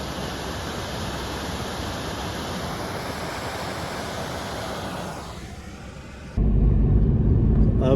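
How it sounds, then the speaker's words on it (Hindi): A small mountain waterfall near Taglang La pass in Ladakh makes a steady, broad rushing roar that suddenly turns into a louder, deeper rumble for the last stretch, with no speech. "इस साइड से आ रहा है एक छोटा सा वाटरफॉल।"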